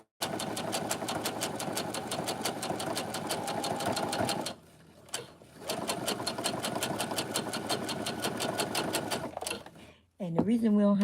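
A sewing machine runs a top stitch through fabric, a steady rapid needle rhythm in two long bursts with a brief pause between, close and loud, followed by a short voice at the end.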